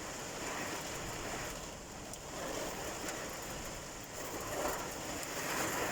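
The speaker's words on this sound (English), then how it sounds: "now it's pounding down a heavy rain" Heavy June rain pounds down on an allotment, heard from inside a shed: a dense, steady roar of drumming water that swells and eases slightly, with no voices.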